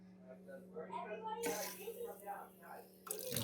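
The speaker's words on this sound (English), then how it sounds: "There's water." Water rushes through freshly plumbed, crimped pipes in an off-grid Alaska build, a sudden loud broadband flow that starts partway in and continues steadily, with a steady low hum underneath.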